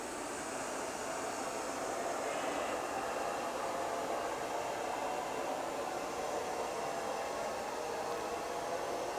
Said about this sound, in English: And that is a pretty thick area rug. So as you can see, you can kind of get up and over there.